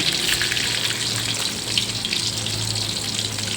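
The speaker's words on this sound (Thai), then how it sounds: "นี่จะทอดให้เหลืองพอประมาณนะคะไม่ต้องให้เหลืองเยอะ" Mackerel frying in oil in a pan for a Thai curry, a steady close crackling sizzle with dense bright spatter that holds evenly throughout, no voices.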